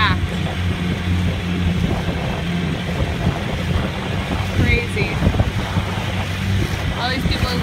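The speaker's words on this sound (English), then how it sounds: "All these people have got their boats out, their kids out, jet skis are out" Motorboats and jet skis drone on the water at Stump Pass, Lemon Bay, amid wind buffeting and splashing waves, with a person briefly speaking over the steady, loud outdoor noise.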